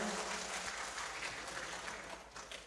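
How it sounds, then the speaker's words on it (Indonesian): Audience applause at a Golkar party regional congress in Probolinggo: a steady wash of clapping filling the hall for nearly three seconds, with a low hum or music bed underneath. "tepuk tangan untuk kita semuanya"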